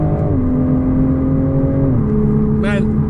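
Toyota GR Supra 3.0L turbo pulling hard in manual mode, engine tone rising steadily then dropping at a quick gear shift before climbing again, loud and close inside the cabin with a voice whooping over it.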